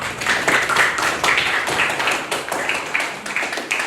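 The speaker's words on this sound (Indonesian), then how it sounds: "tepuk tangan buat kelompok 1." A classroom of students claps for a student group after its presentation, a dense, continuous patter of many hands with rhythmic surges, close and fairly loud, with no speech over it.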